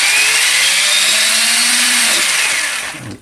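A Tamiya Konghead 6x6 radio-controlled model truck's electric motor whirs steadily and loudly with a high, smooth whine, easing off in the final half second.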